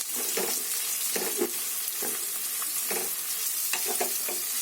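Chopped onion, green chili and curry leaves fry in hot oil with a constant hiss, broken by short scraping strokes of a stirring spoon roughly every second, close up with no voices.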